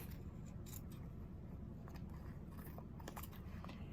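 Scissors snip through excess fabric in a few faint, crisp cuts against a quiet room hum.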